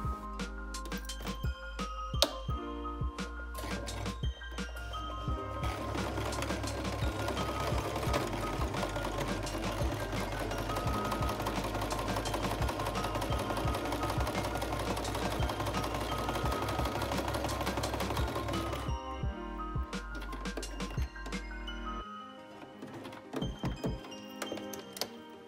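Sewing machine stitching a knitted steek, securing the first and last stitches, runs steadily for about eighteen seconds with quieter starts and stops before and after, close and alone.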